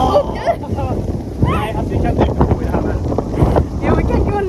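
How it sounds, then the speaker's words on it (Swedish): Strong stormy wind gusting outdoors, a loud broadband roar buffeting the microphone continuously, with people talking faintly underneath. "Det är typ storm ute, vi blåser iväg."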